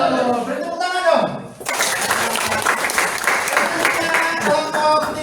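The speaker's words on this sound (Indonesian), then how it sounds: "Beri tepuk tangan dong." Children in a classroom clap for a group of classmates, a burst of applause starting after a short spoken phrase and continuing loud and busy with scattered voices.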